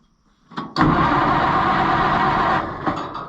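An old vehicle engine, left in gear, cranks steadily for a couple of seconds with a loud rough churn, giving a small chuff before the cranking cuts off.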